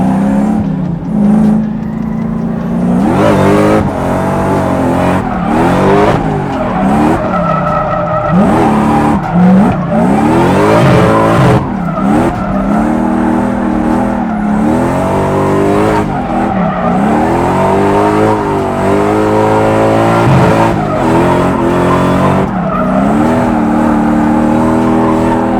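A supercharged 1UZ V8 drift truck slides around, its tires squealing loudly in long, wavering howls over a steadily revving engine, with repeated surges and changes of pitch.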